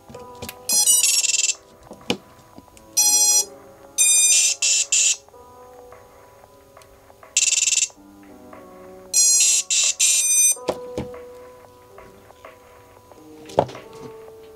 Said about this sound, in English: you did hear the motors make their noises